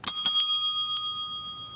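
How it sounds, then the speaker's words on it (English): A bell signals that a speaker's time has expired in a televised New Jersey lieutenant governor's debate: three quick bright dings followed by a fourth, then a lingering metallic ring that decays, with no voices. "The ringing of a bell will be used to signal that your time has expired."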